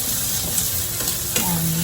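Sliced white onion hitting a hot pan and sizzling as it is stir-fried for a seafood chami noodle dish, a loud close hiss with light stirring scrapes and no talking.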